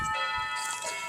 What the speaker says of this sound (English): The doorbell rings, and that is my next guest coming in to spend the night.